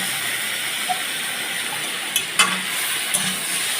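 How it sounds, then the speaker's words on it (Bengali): Onions sizzle and fry in a pan as the base for a chicken stew, a close, steady hiss broken by a few light stirring scrapes. "এই যে ভালো করে কষিয়ে নিচ্ছি পেঁয়াজগুলো।"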